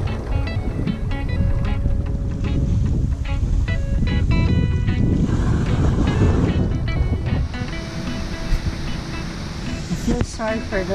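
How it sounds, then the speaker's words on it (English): Strong wind roars steadily outdoors at a lakeside camping spot where people are tenting, a loud broadband rush with gusts throughout while a person talks over it. "Oh my gosh, it's windy out there."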